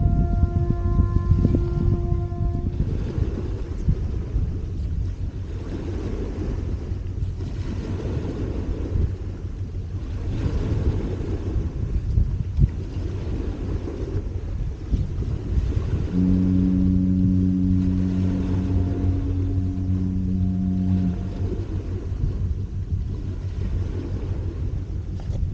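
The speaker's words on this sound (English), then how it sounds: "Although I can't see any river traffic, you can hear its presence." Unseen river traffic on the Thames estuary at Allhallows makes a continuous low rumbling drone, with sustained horn-like tones rising at the start and again midway, distant but steady and without speech.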